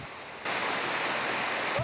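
Steady broadband rush of a freely flowing trout stream in Western North Carolina, the water noise swelling louder after a brief quieter opening and continuing evenly to the end.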